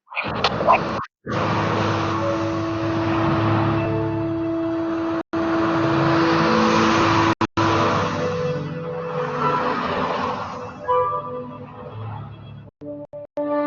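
Cars moving together in an AI driving simulation, a steady loud engine and road drone with tonal hum running throughout, broken by a few brief dropouts near the start and end.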